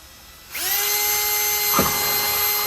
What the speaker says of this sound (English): we're going to drill a hole big enough to fit the soldering iron tip in